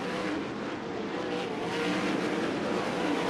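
USAC sprint cars roar around Central Arizona Raceway, a dirt oval, with a continuous dense engine drone that swells slightly as the cars accelerate, loud and sustained without pause.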